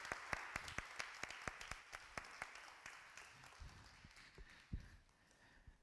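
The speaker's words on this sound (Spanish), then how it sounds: "Den un aplauso grande al Señor." A church congregation claps for the Lord, a sparse run of distinct, sharp hand claps at a quick, fairly even pace, faint and somewhat distant, thinning out toward the end.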